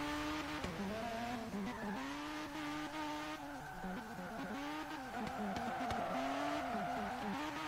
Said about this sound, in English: Take that RX-7 and drift it.